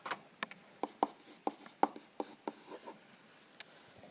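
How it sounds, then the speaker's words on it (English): Marker or chalk strokes on a classroom board as a formula is written: a quiet, irregular series of short scratches and taps, close by, with no speech. "So then we write down the explicit formula."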